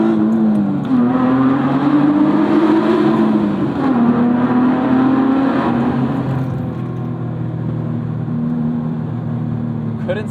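Engine of a 2006 Mitsubishi Eclipse GT pulling hard through a tunnel with a window cracked, loud continuous acceleration with rising and falling pitch across upshifts, echoing and close.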